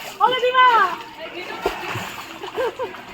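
Water splashing and sloshing as someone swims close by in open water, irregular splashes under a person talking nearby.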